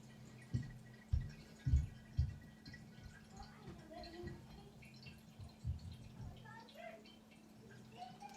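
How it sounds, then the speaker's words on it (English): Black sack honey mead drained off during racking, with a few distinct splashy drips and gurgles early on that settle into quieter, irregular trickling and faint liquid sounds. "So we're going to literally just drain this off."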